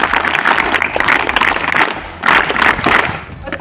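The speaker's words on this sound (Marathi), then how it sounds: "त्याकरता सर्वांनी मी आपल्यासाठी टाळ्या वाजवायच्या आहेत." Audience at a school mock-election event claps steadily in dense, loud bursts, with a short lull midway before the applause picks up again.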